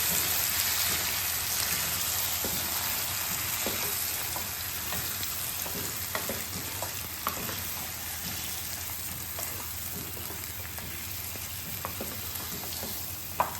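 Spicy bhungla potatoes sizzle steadily in a pan while being stirred, a continuous bright frying hiss with scattered scraping taps of the spoon throughout, close and fairly loud with no talking.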